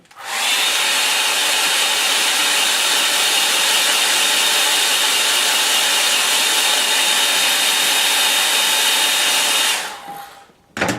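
A hair dryer blowing steadily on a watercolour painting, a loud, close, constant whir that runs for about ten seconds before cutting off.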